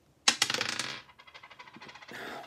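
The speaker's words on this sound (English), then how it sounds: "So let's see what the dice will give us." Dice are rolled from a football card box-break game, landing with a sharp clatter, then tumbling and rattling in a quick series of small clicks before settling, with a second brief rattle near the end; no talk.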